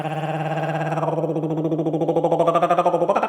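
A voiced uvular trill, the uvula vibrating against the back of the tongue, imitates a helicopter, a steady pulsing rattle under a hummed tone that glides down and then back up.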